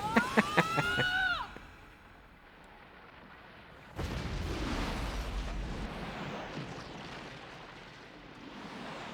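KOS-MOS opening fire in Xenosaga Episode III, a sudden loud burst of heavy gunfire and blasts that rumbles on for several seconds after a short stretch of game sound effects.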